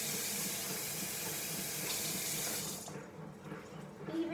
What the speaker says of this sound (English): Stick them in cold water. Should always rinse fruit.